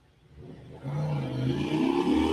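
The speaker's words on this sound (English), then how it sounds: "No, it's just a motorcycle. It's just loud." A loud motorcycle outdoors revs up from faint to a strong, steady engine roar that keeps building toward the end, with no talking.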